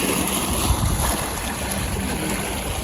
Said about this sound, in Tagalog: Naririnig nyo guys yung alon ng tubig.